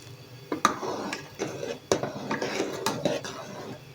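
Sharbat syrup being stirred and cooked in a pot with food colouring, a spoon clanking and scraping against the metal in irregular close knocks, with a soft ongoing bubbling beneath.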